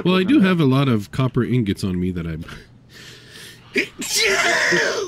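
A single sharp sneeze bursts out near the end of a stretch of steady talk during Satisfactory gameplay commentary, with a breathy rush following it.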